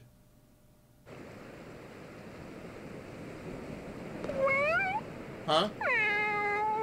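A cat meows several times in the video game Bravely Second, clear rising-and-falling cries over a steady background wash of ambience, with a short spoken word from a person.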